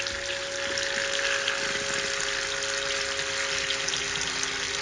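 Water spraying and splashing off the wheel of a Kugoo G2 Pro electric scooter, a steady broadband hiss and gush that runs continuously and close, with a faint steady tone underneath.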